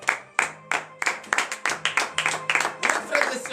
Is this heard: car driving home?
no